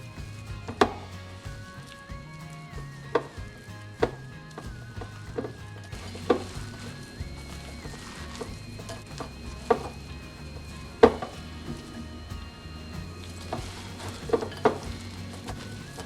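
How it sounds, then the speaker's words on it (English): Banana and coconut cookie dough being mixed by hand in a bowl, giving sharp intermittent clacks and taps of a utensil against the bowl over a low, quiet background, irregular and close, with no talking. "Mix until a thick dough forms."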